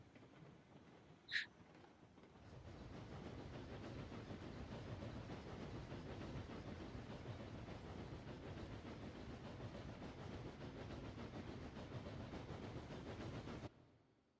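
A video-game train locomotive rumbles steadily for about twelve seconds after a brief high whistle-like call, a continuous low clattering drone that cuts off abruptly near the end.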